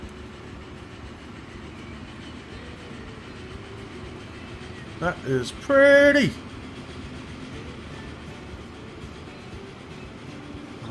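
A train rolls along the rails in the game Transport Fever 2, a steady low rumble throughout, with a short burst of brighter tones partway through and someone briefly speaking over it.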